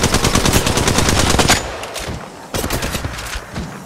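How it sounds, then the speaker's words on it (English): An automatic weapon in Apex Legends Mobile fires a fast, loud, continuous burst up close, pauses briefly, then rattles off a second rapid burst. "Opening fire on the enemy."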